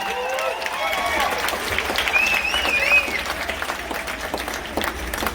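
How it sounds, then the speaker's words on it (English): Applause from an audience greeting the contest champion, steady dense clapping with crowd noise throughout, a few louder cheers rising partway through. "Your champion. Big round of applause."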